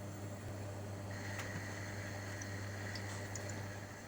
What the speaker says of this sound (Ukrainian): І продовжуємо смажити